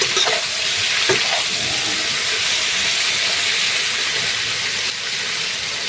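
Sliced patola sautés in a hot pan with salt and spices, a loud, steady sizzle and hiss with a few scraping stirs of the utensil near the start, close to the listener and with no talk.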